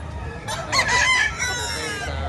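A rooster crows loudly nearby at a livestock auction market, one drawn-out call rising and falling over steady background noise.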